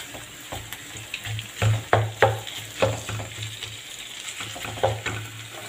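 Minced meat and chicken sizzle with wilting onion in a pan, a steady frying hiss broken by repeated scraping stirs of a utensil, close and moderately quiet.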